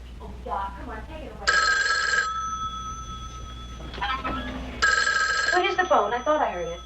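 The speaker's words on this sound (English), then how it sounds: "Where's the phone? I thought I heard it." An old telephone bell rings in two loud bursts with a pause between them, set inside a quiet indoor scene where a few voices speak before and between the rings.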